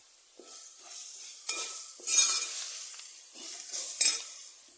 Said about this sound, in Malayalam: ആവശ്യത്തിന് കുത്തുമുളക് ഇട്ടു. ഇളക്കി കൊടുക്കാം.